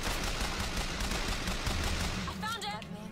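A gun in Bioshock Infinite fires in a fast, continuous stream of shots at moderate loudness, trailing off near the end under a faint tonal sound.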